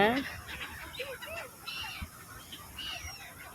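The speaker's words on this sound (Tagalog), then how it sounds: "Ah, may kasamang pato pala." Ducks call with scattered nasal quacks at a lakeside park in Abu Dhabi, where gulls and pigeons gather too, mixed with people talking nearby.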